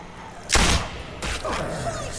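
A single loud gunshot from The Walking Dead video game cracks out sharply, followed by a second, rougher burst of sound and lingering noise.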